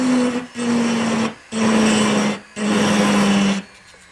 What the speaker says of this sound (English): it's a matter of moments for me to carve and file the material